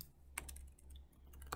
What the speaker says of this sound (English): I'm going to type in slate,